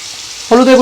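Chicken hariyali with turmeric powder frying in a pan, a steady close sizzling hiss, with a voice starting to speak halfway through the brief moment.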